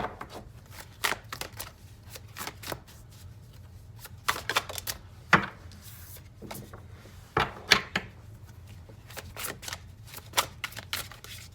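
A deck of reading cards is shuffled up close, with soft flutters, riffles and sharp taps of cards snapping together in irregular bursts over a quiet background hum, and no one speaks.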